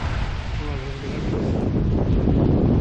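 Strong wind buffeting the microphone over a constant roar of Baltic Sea surf breaking on a beach at Smiltynė in January, loud and close, with no clear voices.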